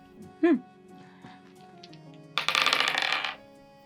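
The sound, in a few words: two dice being thrown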